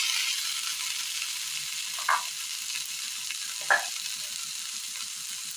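Steady sizzling of a hot pan as fried onion, coconut and tempered mustard seeds are added to a dish, with two small clinks of a utensil partway through and no talking.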